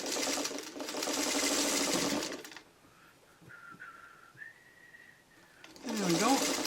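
Domestic sewing machine stitching quilt blocks for a Flock of Geese pattern, two sustained bursts of fast, even needle hum at the start and end with a quiet pause between, close and fairly loud.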